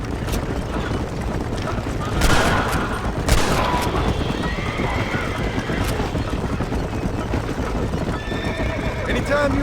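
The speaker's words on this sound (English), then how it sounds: "They're shooting right at me." Enemy gunfire in Red Dead Redemption crackles in bursts over galloping hooves and neighing horses, with loud mid-range shots scattered through the chase.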